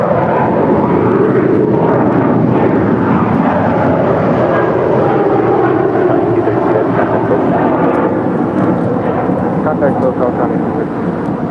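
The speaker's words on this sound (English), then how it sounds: "THL, operated by Coletta Air, Flight 232, departing to Sydney. It's a 2-year-old Boeing 777 freighter." A two-year-old Boeing 777 freighter departing LAX, a loud sustained jet roar with a low rumble that slowly shifts in pitch as it passes, filling the whole stretch.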